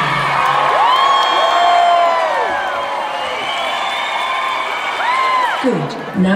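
Concert crowd cheering and applauding loudly, with rising and falling whoops and shouts over a dense wash of clapping that holds steady throughout and dips near the end.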